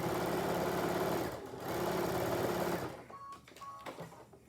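A domestic sewing machine stitching fabric for a bunny bun loaf, running in steady rapid bursts with a brief pause, then stopping into quieter handling and clicks.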